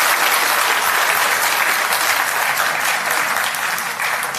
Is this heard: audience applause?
yes